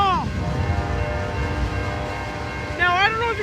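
A freight or passenger train sounds its multi-tone horn for a street crossing at a railside spot in Royal Oak or Wyandotte, Michigan; a short blast, a steady rumble, then another blast, loud and fairly close.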